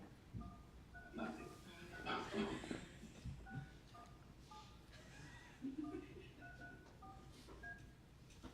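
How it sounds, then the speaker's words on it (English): A telephone call dialed during a court session, a sequence of short keypad tones in steady rhythm under background murmur and brief talking in the room. "Can you call again, Colleen?"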